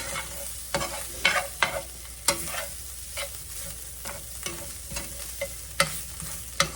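Ground beef and flour for empanada filling cook in a pan, with a low sizzle punctuated by rhythmic spoon scrapes and knocks every half second or so, close and clear, without talk.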